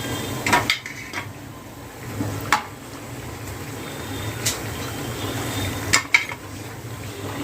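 Fried bread patties lifted from a pan onto a plate, with sharp clinks and scrapes of a utensil against cookware over a faint background sizzle, scattered taps spaced across the span.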